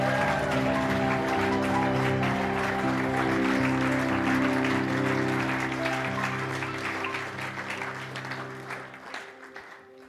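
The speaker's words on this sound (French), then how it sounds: "On peut applaudir pour le Seigneur." Congregation applauding at a church revival service, a dense patter of clapping over sustained music that fades near the end.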